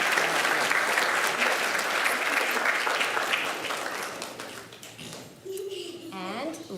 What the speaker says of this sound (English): let's give her and them a round of applause